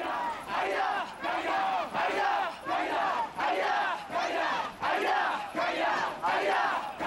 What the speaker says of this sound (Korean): 지연이는 힘차게 군가를 부릅니다